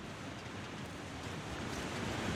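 Steady, full-band rush of falling water from a waterfall in the survival game The Long Dark, continuous and even with no pauses, loud and close and slowly swelling toward the end.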